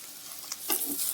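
Amaranth leaves with liver frying in a pan for a Thota Kura liver fry, a close soft sizzle with scraping stir strokes over a short stretch, no voices.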